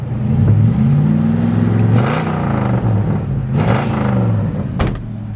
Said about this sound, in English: It's got a nice sounding exhaust.